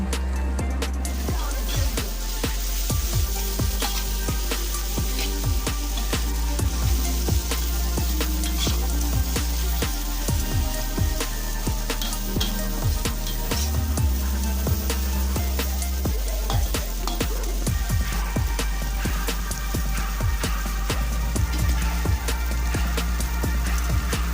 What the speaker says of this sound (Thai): แล้วก็ผัดให้เข้ากันจนแห้งนะคะทุกคน